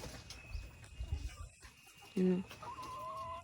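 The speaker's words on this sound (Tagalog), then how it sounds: "ngayon ay magpapakain tayo ng manok" Chickens cluck softly nearby amid low background noise, with a short, louder tonal call near the middle.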